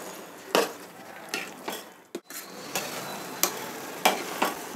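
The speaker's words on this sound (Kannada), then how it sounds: "ಈಗ ಸ್ವಲ್ಪ ಹುರಿಯೋಣ. ಇದೆಲ್ಲ ಹಾಕಿದ್ಮೇಲೆ ಗಟ್ಟಿ ಇರೋದ್ರಿಂದ ತಳ ಹಿಡಿಯೋ ಚಾನ್ಸ್ ಇರುತ್ತೆ, ಅದಕ್ಕೆ ಕೈ ಬಿಡದೆ ಮಿಕ್ಸ್ ಮಾಡಬೇಕು." Sagu masala stirred and fried in a pan for Mysore-style masala dosa, a steady soft sizzle broken by repeated scraping strokes of a spatula against the pan, close and moderately quiet.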